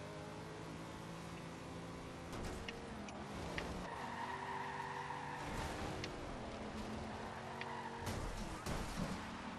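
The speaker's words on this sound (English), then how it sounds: "It tends to go sideways as you accelerate too." A Nissan Fairlady Z 432 rust rod with 928 BHP in Forza Horizon 2 on Xbox One slides sideways under acceleration, its engine roaring continuously with tire scrubbing and squeal woven through the steady, loud noise.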